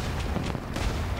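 Artillery fire in the real-time strategy game War Alert WWII, with several quick low thuds and bursts in rapid succession over a rumbling battle background.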